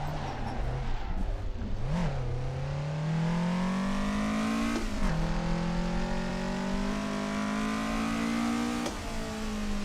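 A Toyota AE86 engine revs hard through a tight mountain touge run, its pitch climbing steadily in long pulls broken by brief drops at gear changes, loud and close for the full ten seconds.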